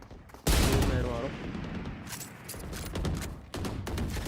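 Gunfire from the Marshal sniper rifle in the video game Valorant, heard as sharp, loud in-game shot bursts with rumbling tails. Other game effects and a voice talking over them fill the gaps between shots.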